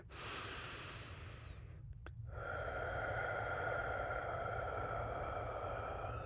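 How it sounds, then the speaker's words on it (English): A slow, deep breath close to the microphone in a quiet, intimate setting, a long airy inhale followed by a brief catch and a steady, sustained exhale. "I want you to take a nice deep breath with me,"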